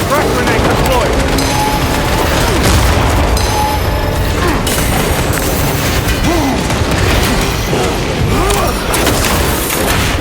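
Grenade blast in Space Marine 2 amid dense, loud combat, with continuous gunfire and crashing impacts filling the scene while a voice speaks.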